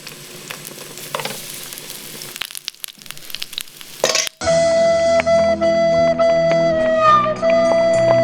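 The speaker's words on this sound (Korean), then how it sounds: "예열한 팬에 식용유를 넉넉하게 두르고 숟가락으로 한 큰술 동그랗게 떠서 모양 잡아 붙이는데" Spoonfuls of corn fritter batter sizzling in generous cooking oil in a preheated pan, a steady close crackle that suddenly gives way to music.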